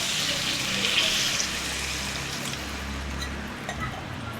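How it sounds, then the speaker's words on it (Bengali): Water poured into a simmering potato and pointed gourd curry in a Bengali vegetarian kitchen, a steady rushing stream lasting several seconds, fairly loud and alone with no talk. "এর মধ্যে দিয়ে দেব জল।"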